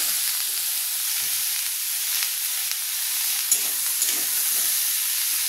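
Pumpkin and pointed gourd with onion frying in a pan, giving a steady soft sizzle and hiss throughout with a few faint stirring scrapes, close and moderately quiet.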